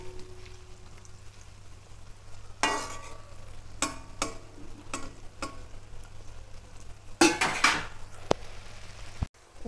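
Small bitter gourds frying in a pan, with a soft sizzle under a string of scraping stirs and clinks of a spatula against the pan, fairly quiet and close.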